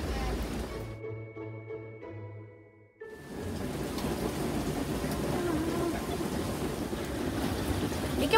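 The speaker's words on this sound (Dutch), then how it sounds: "we gingen heel hard te regenen" Heavy rain pours down in Madeira as a dense steady roar that breaks off briefly and then returns strongly, with no voices.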